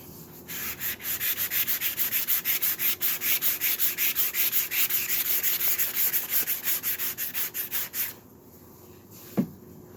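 A wooden cheese board is hand-sanded with a sanding block in rapid, steady back-and-forth rasping strokes, close and loud for about eight seconds. Then the sanding stops and a single soft knock follows.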